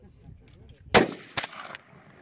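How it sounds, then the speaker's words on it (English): A D3-9SDK integrally suppressed 9mm carbine fires one sharp, close shot, followed a moment later by a softer second report or impact, over low background murmur. "No, just go ahead and fire through."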